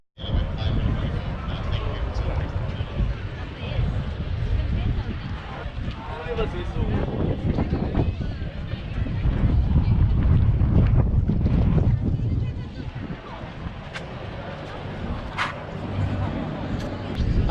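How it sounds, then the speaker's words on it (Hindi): Strong gusty wind buffets a handheld microphone outdoors at Edinburgh Castle, producing continuous low rumbling roar that swells and eases, with a person talking underneath the gusts. "आज हवा बहुत तेज़ चल रही है, तो हो सकता है आपको जो है ऑडियो में थोड़ा सा प्रॉब्लम हो"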